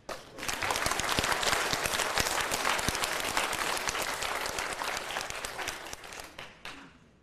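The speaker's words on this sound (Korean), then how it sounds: "박수." A crowd at a Korean church revival meeting bursts into brisk, full applause, sustaining it for several seconds before it tapers off and fades away.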